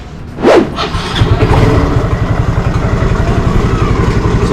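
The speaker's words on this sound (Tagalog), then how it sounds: "So, ni-start yung motor," A motorcycle engine starts with one sharp burst and then settles into a close, loud, steady idle with an even pulsing beat.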